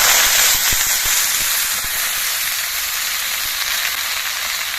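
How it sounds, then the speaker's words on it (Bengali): Loud, dense sizzling as chopped greens with bottle gourd leaves hit hot oil, fading slightly over time, with a few soft knocks early on and no talking. "এবার এর মধ্যে আমি কেটে রাখা শাকগুলো দিচ্ছি"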